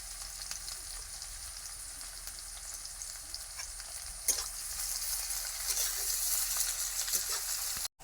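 Chopped garlic and ginger fry in hot oil in a pan for a Bengali tilapia fish curry, a steady close sizzle with light stirring scrapes throughout.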